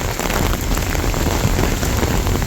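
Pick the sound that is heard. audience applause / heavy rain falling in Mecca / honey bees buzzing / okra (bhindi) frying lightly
heavy rain falling in Mecca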